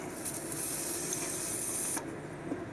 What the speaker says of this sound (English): Right now I'm going to spray a little lubricant on here.